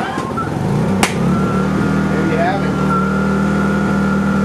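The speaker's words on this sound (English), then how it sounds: "come over here and start the generator" A biogas-fuelled generator cranks with a sharp start, then settles into a steady, close mechanical engine drone that holds for several seconds, with some speech mixed in.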